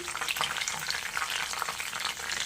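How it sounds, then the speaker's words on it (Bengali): A few curry leaves hit hot oil, reused after frying peanuts, while tempering for chire pulao (poha); a soft, continuous crackling sizzle with fine spitting pops, fairly quiet and steady. "সেই তেলে আর একটু তেল দিয়ে যৎসামান্য কারি পাতাটাকে ফোড়নে দিয়েছি"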